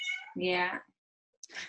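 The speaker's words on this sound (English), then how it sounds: "Is that your baby waking up? No, that's my cat." A house cat meows twice indoors, a drawn-out close call followed after a short pause by a second shorter one, with a person speaking briefly nearby.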